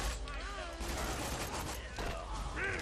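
Rapid gunfire from a weapon in Borderlands 2, bursts of shots crackling over game music and effects, with a voice talking over the action.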